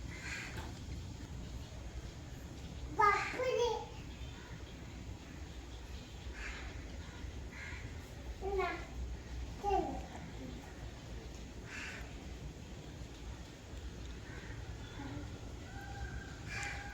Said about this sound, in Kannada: ನಮಗೆ ಗೊತ್ತಾಗ್ತದೆ ಅದು ಡೈಲಿ ಬರೋ ಕಾಗೆ ಅಂತ